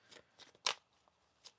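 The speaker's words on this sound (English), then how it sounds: "One more shuffle." A deck of tarot cards being shuffled, with a few brief, light riffling and snapping bursts, one sharper flurry in the middle, close and fairly quiet with no talking.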